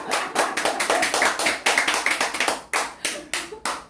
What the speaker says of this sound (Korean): 아니 저번에 박수를 우리가 이렇게 쳤잖아요.